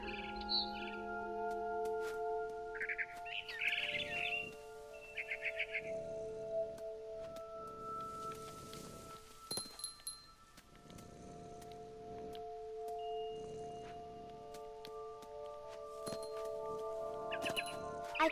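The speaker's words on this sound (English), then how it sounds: "Then I heard chirping outside my window." A barn swallow chirps in short, light bursts in the video game What Remains of Edith Finch, faint and scattered over a quiet ambient backdrop with soft tones.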